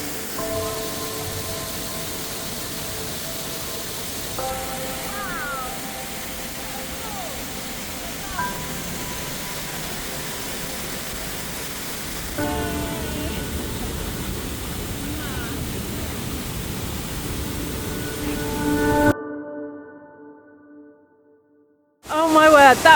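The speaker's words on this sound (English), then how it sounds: "Oh my word, that waterfall was so good." Roaring waterfall with a steady broadband wash of falling water heard up close, loud and continuous, with faint voices mixed in before the sound drops out near the end.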